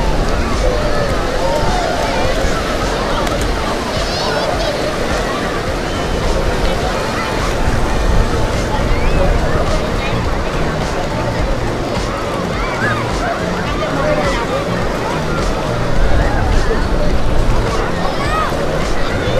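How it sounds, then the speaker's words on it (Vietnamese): Crowded tourist beach at Vung Tau on a weekend, with a steady wash of surf and waves under dense crowd babble and voices throughout, fairly loud and continuous with no single sound standing out. "Rất là đông vui nhộn nhịp, đúng là một bãi biển du lịch."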